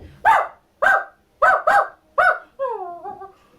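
Dogs barking as a sound effect in a children's story, five sharp loud barks in an uneven rhythm followed by a drawn-out whining bark, close and clear with no talking.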